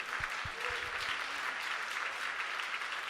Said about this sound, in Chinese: 好，我们再一个掌声归给我们的上帝